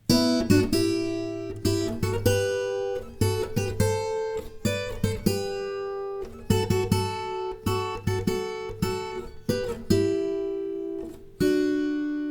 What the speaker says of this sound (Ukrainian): Тепер додамо до кожної ноти терцію, і звучати це вже буде ось так.